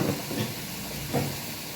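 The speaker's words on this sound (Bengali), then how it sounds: "টমেটো, কাঁচা লঙ্কা, এই পেস্টটা আমি দিয়ে নেব।" A tomato, coriander and green chili paste sizzles in a pan, with a steady hiss and a few soft stirring swishes.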